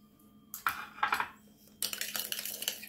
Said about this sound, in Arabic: حركو مزيان هاد لاصوص